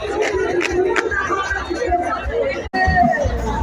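Carnival crowd in Salvador, Brazil, a dense close hubbub of many voices chattering and shouting, steady and loud throughout.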